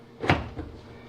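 A GE dryer door is lifted off its hinges, giving a short hollow knock and rattle with a softer clunk just after, close by.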